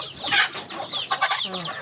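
Chickens cluck busily up close, a flurry of overlapping clucks and squawks with no voices.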